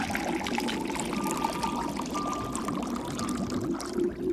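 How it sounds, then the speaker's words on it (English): Water pours steadily into a hole, a continuous gurgling splash close by with a faint tonal ring, no voices. "take the water, put it back in the hole we had earlier"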